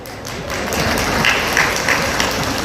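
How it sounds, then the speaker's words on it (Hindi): Applause from a small crowd of about fifteen to twenty people at an outdoor poetry gathering, a short burst of scattered clapping that swells and holds with a few sharper individual claps. "15-20 लोगों ने ताली बजाई"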